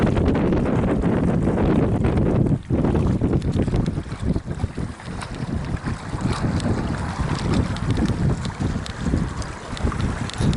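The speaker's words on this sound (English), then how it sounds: "Oh, it's so windy." Strong wind on the northern California coast buffets the microphone with heavy, continuous roaring and gusty rumble, fluctuating in loudness throughout.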